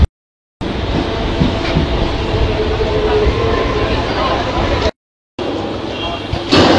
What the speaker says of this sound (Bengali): আর চন্দননগরে আমাদের ট্রেন এসে গেছে